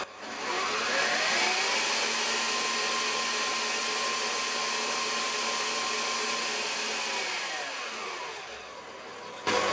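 An electric mixer whizzes chocolate sponge batter with a steady, loud motor whine that runs almost the whole time and then winds down and stops near the end, with no talking.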